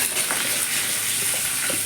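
Oil sizzling steadily in a pan as dried chillies, garlic, cumin and curry leaves are tempered for a spinach chutney, a continuous close frying hiss with no voices.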